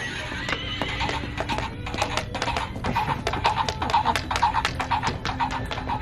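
A horse neighs and whinnies repeatedly over steady clip-clopping hooves. The animal sounds close and the noise is fairly loud, with faint background voices mixed in.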